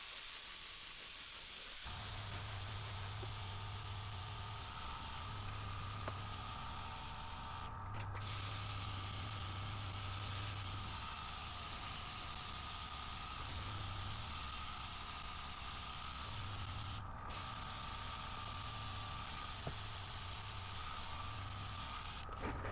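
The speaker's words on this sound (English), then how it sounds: "we'll see what we are able to make with this kind of spraying technique" Black paint is sprayed onto a 3D printed swimbait with a steady airbrush-like hiss that runs almost continuously and is only briefly interrupted, over a low hum.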